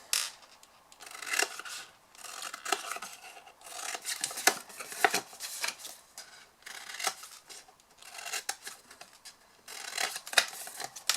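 Scissors snip repeatedly through paper, cutting wedge-shaped corners for a large napkin fold box, in close, irregular bursts of crisp cutting and rustling with no talk.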